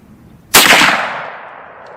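A single loud .45-70 lever-action rifle shot cracks sharply after a quiet moment, then its report decays into a long trailing echo.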